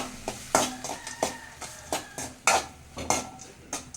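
Tomato rice in a pot is stirred with a metal spoon, making about a dozen rhythmic scraping knocks against the pot, close and clear, with no speech.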